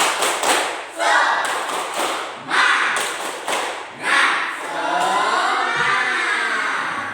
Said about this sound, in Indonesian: Ayo tepuk semangat dulu biar tambah semangat